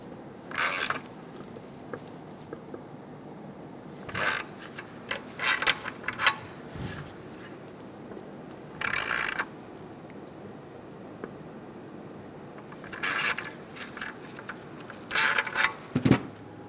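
Ratchet or wrench clicks come in short bursts while bolts are snugged down on the exhaust manifold catalytic converter pipe of a 2003-2007 Honda Accord, with several separate spells of mechanical ticking and quiet gaps between them.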